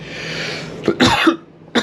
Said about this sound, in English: breathing some of that cold air made me cough a little bit